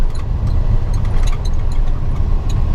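A box truck backs into a loading dock, its engine a loud, close, steady low rumble that runs unbroken throughout with no talking.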